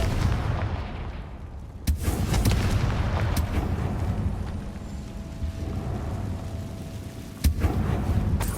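A Confringo fire spell blasting in Hogwarts Legacy, with sharp loud impacts near the 2-second and 7.5-second marks over a constant roaring, rumbling game soundscape.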